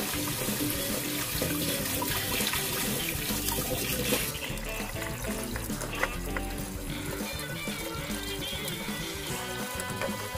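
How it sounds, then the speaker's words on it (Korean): Running tap water splashes steadily while a conch is scrubbed with a brush, giving a gritty rubbing sound under the flow. "흐르는 물에 솔로 빡빡 문질러줍니다."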